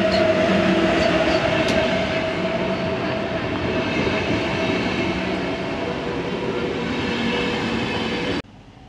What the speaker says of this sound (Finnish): Juna tulee